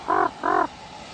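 A crow gives two loud, harsh caws in close succession, near and clear, with a faint quieter call trailing after on a snowy day.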